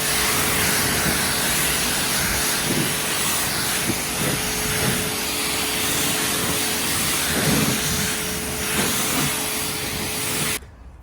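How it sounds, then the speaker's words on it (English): A long, continuous hiss of sanitizer spraying, loud and close, with faint bumps and handling noises underneath, cutting off abruptly at the end. "spray it with sanitizer as well"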